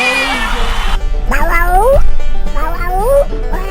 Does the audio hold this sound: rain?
no